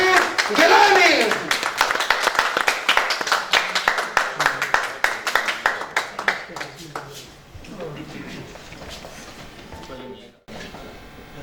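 Audience applause at a book launch event welcoming Syed Manzoor Gilani, chairman of the Istiqlal Party, as he comes to the stage. Dense clapping starts strong, thins into scattered claps and fades out, with some voices mixed in.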